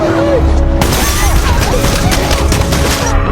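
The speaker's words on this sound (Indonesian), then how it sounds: "Keluarga Ralph pun ditembak oleh anak buah Jack tanpa ada sisa" Gunfire in a film scene, dense bursts of shots over a loud, busy soundtrack with voices mixed in, continuous and heavy for the whole stretch.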